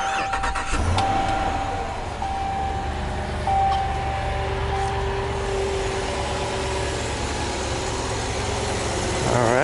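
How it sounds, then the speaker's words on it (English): A RAM 3500 crew cab chassis work truck cranks and starts with a short whir, then settles into a steady, moderately loud engine idle that continues close by. "let me go ahead and start it up so you can hear it crank"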